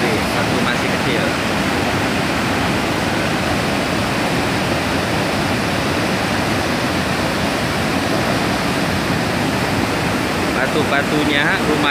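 A fast-flowing river current rushes over large rocks. A dense, loud and steady roar of water fills the scene without a break.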